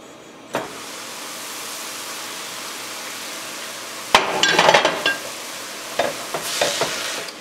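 Carrots and celery simmering for beet soup in a covered pot, a steady low sizzle, then clattering, clinking sounds of the lid and utensils handled close by.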